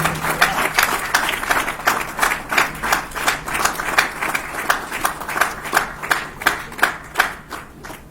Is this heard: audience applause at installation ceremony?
yes